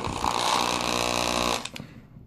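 A power drill spins up to tighten its chuck around crimped interlock wire for a chain coil, giving a steady buzzing whir for about a second and a half before it cuts off and winds down.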